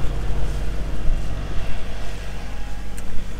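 Steady wind rushing over a sailing boat offshore at sea, a constant low roar with gusty fluctuations and no speech.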